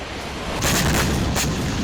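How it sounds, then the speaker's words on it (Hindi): Barrel bomb blast from a Russian attack in the Donetsk area, heard as two loud, broad bursts of explosive noise about three-quarters of a second apart, with no voices. "रूसी सेना ने बैरल बम से किया जबरदस्त धमाका"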